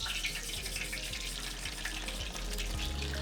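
Mustard seeds tipped into hot oil for a Kerala-style fish curry give a loud, steady hiss and sizzle that runs unbroken for a few seconds, with no voices.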